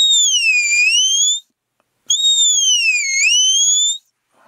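A high, clear herding whistle for a dog's half flank command sounds twice, each a sustained tone that dips and rises again, loud and close with a brief silence between.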